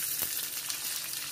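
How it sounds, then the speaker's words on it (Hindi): Cumin seeds, black pepper and cloves tempering in hot oil in a home kitchen for a soya chunk curry, giving a steady close sizzle with a crackle near the start and no voices. "और जीरा, काली मिर्च और लौंग ये डालेंगे। हल्का सा तड़क जाइए।"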